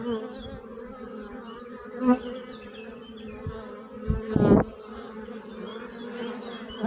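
Honeybees affected by chronic bee paralysis virus buzz in a steady, droning hum close by, with one brief louder burst of buzzing near the end.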